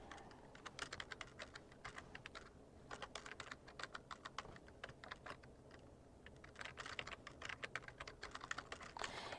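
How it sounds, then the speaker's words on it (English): Keys clatter steadily as an email address is typed on a computer keyboard, quick bursts of clicks separated by short pauses, close and clear with no talking. "as I type in the email address"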